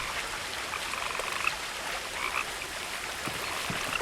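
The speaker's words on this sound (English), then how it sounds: "I was looking for the frog." Frog croaking in the What Remains of Edith Finch video game, a few faint croaks set against a steady wash of water or rain-like ambience, no talking.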